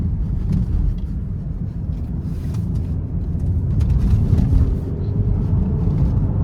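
A Mercedes-Benz GLE 350 4MATIC with a 3.5 V6 drives in sport mode, its engine a steady low drone mixed with road and wind noise that swells slightly midway, with no talking over it.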